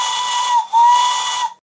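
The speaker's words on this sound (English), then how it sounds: "Let's see what the whistle sounds like." A modified steam whistle on a boiler pumped to about 60 psi of compressed air gives a loud, close blast with a slight break partway through, then stops abruptly.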